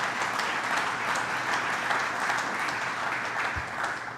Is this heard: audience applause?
yes